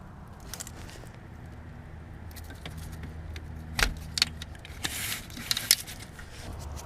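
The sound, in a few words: 10mm ratchet and wrench removing a bolt on a car engine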